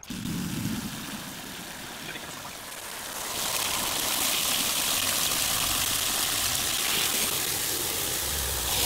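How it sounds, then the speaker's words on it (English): Water runs steadily from an outdoor faucet into a bucket, a continuous broadband rush that grows louder and fuller partway through as the flow increases, with no talking. "So here I'm going to fill up some water."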